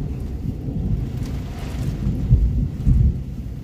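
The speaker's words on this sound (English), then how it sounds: "Listen to that thunder." Thunder rumbles through a storm, a deep continuous roll with louder swells near the end over steady rain and wind noise, heard during storm chasing of a possible tornado outbreak in Ohio and Indiana.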